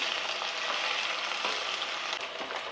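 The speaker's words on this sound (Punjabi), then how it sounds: "ਪਹਿਲਾਂ ਆਪਾਂ ਇਹਨੂੰ ਅਰਬੀ ਨੂੰ ਫਰਾਈ ਕਰ ਲਈਏ ਪਿਆਜ਼ਾਂ ਦੇ ਨਾਲ" Taro root (arbi) frying with onions in a pan: a steady, close, crackling sizzle with soft stirring rustles, continuous and unbroken, no voices.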